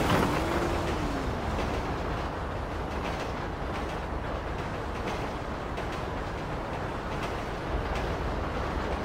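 A train in GTA V rolls along its rails with a continuous low rumble and faint rhythmic clacking, steady and moderately distant throughout.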